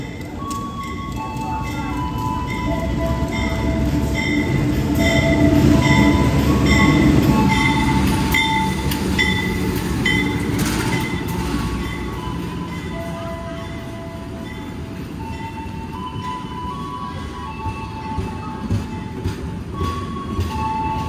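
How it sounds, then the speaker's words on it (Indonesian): The Probowangi passenger train, hauled by a CC 201 diesel locomotive, rolls into line 2 at Probolinggo station, a long, loud rumble with squealing wheels and rhythmic clacking over the rails. "ini dia kereta api Propowangi sudah masuk di jalur 2 stasiun Probolinggo."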